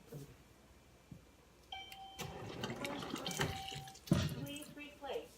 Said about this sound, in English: I'm gonna add, I think, a tiny bit of water.